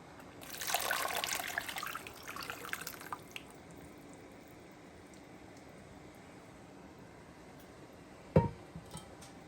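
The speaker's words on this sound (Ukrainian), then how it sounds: "Додаємо томатний сок." Tomato juice is poured into a borscht dressing of softened beetroot and chopped pepper, giving a brief liquid gush in the first few seconds, then quiet with a single sharp knock near the end.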